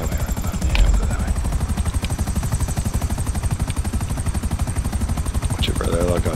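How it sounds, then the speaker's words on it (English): A helicopter in the video game GTA 5 Online gives off a loud, steady rotor chop with a thick, rapid low-end pulse and a constant high whine throughout. "Watch out for the helicopters."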